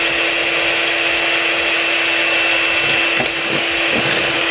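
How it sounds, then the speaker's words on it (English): Electric whisk beating egg whites for fluffy Japanese pancakes, a steady loud whirring drone with a constant motor hum throughout, plus a few faint knocks near the end. "you're going to want to get your electric whisker out"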